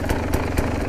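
A KTM 300 enduro motorcycle on a light mountain descent, its engine loud and close with a steady, throbbing two-stroke drone and brief regular pulses, no voices.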